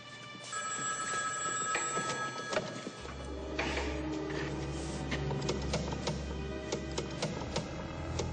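Telephone ringing with a shrill bell tone amid a busy, clattering indoor scene with a low hum underneath.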